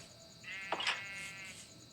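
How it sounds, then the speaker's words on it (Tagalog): A goat bleating once near a house, a single wavering nasal cry lasting about a second, moderately close over quiet background, with no talk. "Ito po may kambing dito."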